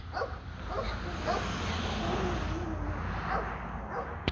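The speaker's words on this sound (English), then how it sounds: "I am going to join the puppies out back, which will calm them down" Puppies kept out back of a house make soft, scattered yips and whimpers with a few faint barks, moderately distant over a steady outdoor background hum.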